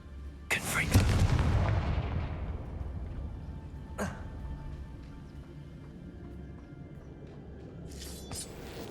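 Confringo blasting spell in the Hogwarts Legacy video game lands with a heavy boom and a rumble that slowly fades, followed by a second sharp crack and a brief burst near the end.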